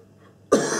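A single sharp cough bursts out after a moment of near silence, close and loud.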